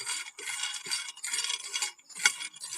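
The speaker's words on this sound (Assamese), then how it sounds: "বাদামখিনি মই এতিয়া ভাজি ল'ম" Peanuts roast in a pan over a very low gas flame, stirred in bursts of dry rattling and scraping with brief pauses between strokes and one sharper metallic clink near the end.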